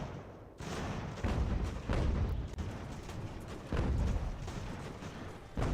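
Mortar artillery fires repeatedly in the Ultimate General: American Revolution video game. Loud, heavy booms come one after another with a dense, rumbling battle din in between.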